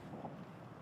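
A strong, cold wind blows on a lake, a steady, faint rushing roar buffeting the microphone, with no voices.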